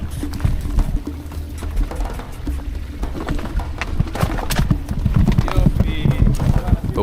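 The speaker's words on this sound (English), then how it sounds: "now we had to cross our first stream with the donkeys" Donkeys' hooves clop and splash while crossing a stream on the Jesus Trail in Israel, a steady run of irregular knocks amid broadband water and movement noise, with a murmur of voices throughout.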